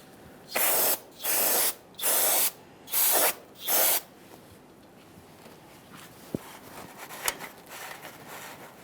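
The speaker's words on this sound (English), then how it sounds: "And we'll continue on with some parts cleaner." Parts cleaner sprayed onto a brake backing plate of a 1994-2001 Dodge Ram 1500: five short loud hissing bursts in quick succession, then faint clicks and shop noise.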